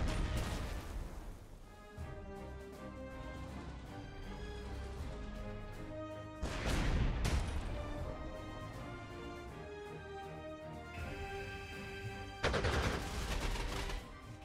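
Gunfire in the strategy game Panzer Corps 2, with dense volleys of shots and rattling bursts that come in three heavy waves, the loudest near the start, the middle and the end, over a steady background.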